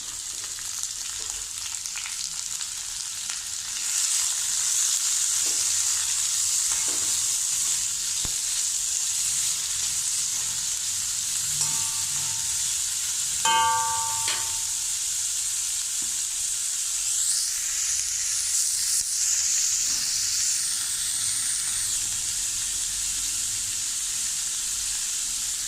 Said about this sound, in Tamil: இஞ்சி, இந்த பச்சை மிளகாய் வளர்ந்து வச்சுருக்கேன்ல அது, இந்த வெங்காயம் எல்லாம் போட்டு கொஞ்சம் வசக்கணும்